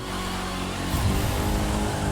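A car engine drones while driving in the racing game The Crew 2, a steady mid-level roar with a brief surge of revving partway through, no speech.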